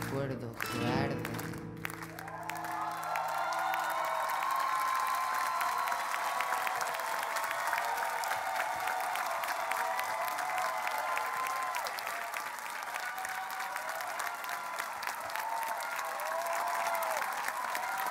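A theatre audience at a Got Talent Portugal 2022 show stands and applauds, dense sustained clapping filling the room after a few loud opening sounds, continuing strongly throughout.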